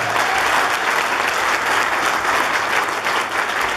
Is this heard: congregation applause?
yes